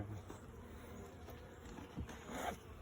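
Honey bees buzz steadily around a hive opened for inspection beside a queen transport nuc box, a soft continuous drone at moderate distance with a few faint handling noises.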